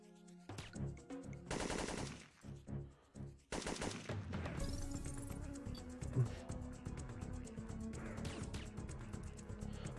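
Gunfire in the video game Syphon Filter 3, set in the Australian outback: two short loud bursts followed by sustained rapid shooting with impacts. Fairly quiet overall, with no talking.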